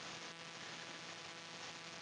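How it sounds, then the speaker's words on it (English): Quiet room tone of steady white-noise hiss with a faint low electrical hum underneath, constant and unchanging throughout. "the sounds, the white noise"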